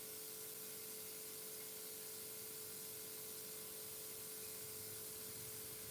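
An airbrush sprays paint at reduced pressure while painting an eye, giving a steady, fine hiss that runs unbroken and close throughout.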